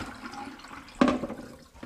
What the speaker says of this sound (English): Just going to drain these now and pat them dry with paper towels.